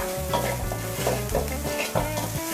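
Pork belly stir-fried dry with salt and chili, kaffir lime leaves and sliced spring onion, sizzling loudly in a pan. A spatula scrapes and tosses in a steady, repeating rhythm close up, with no voices.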